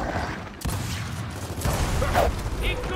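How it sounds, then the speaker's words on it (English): A grenade detonating in a Gears of War 4 King of the Hill multiplayer match, a loud sudden blast followed by a sustained crackling roar under heavy gunfire. "That's a grenade, man."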